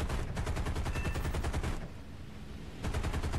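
The guns of a P-51D-20NA fighter fire in War Thunder simulator combat, a dense continuous machine-gun rattle in two long bursts separated by a brief lull of engine drone, loud and close with no voices.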